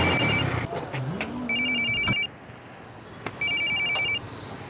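Telephone ringing in a drama scene, as two bursts of a trilling electronic ring, each about a second long, at moderate loudness over quiet background noise, with a short tonal sound between them.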